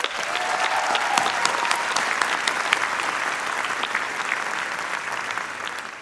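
A commencement ceremony crowd breaks into sustained applause, dense clapping at steady volume from a large audience that slowly tapers toward the end.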